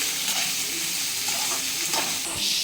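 Onions frying in a pan on the stove, a steady loud sizzle with faint stirring scrapes, close and continuous with no talking.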